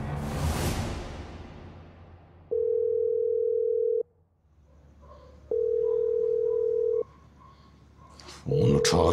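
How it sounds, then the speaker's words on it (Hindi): A telephone ringback tone pulses in long, steady tones with pauses between them while a call goes unanswered, heard clearly after a whooshing transition in a Pakistani drama, with faint background sound underneath. "फोन उठाओ रहीम"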